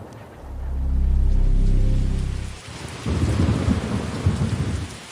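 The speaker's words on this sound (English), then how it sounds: "A terrible hurricane is brewing." A thunderstorm in an audio drama opens with a long, deep, loud rumble of thunder, which gives way to steady heavy rain pattering on surfaces, with no voices.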